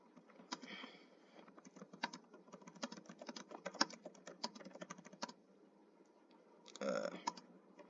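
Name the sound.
typing fast on a computer keyboard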